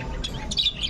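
Hagoromo rainbow lovebirds in a mini aviary give a few short, high chirps over a low background murmur.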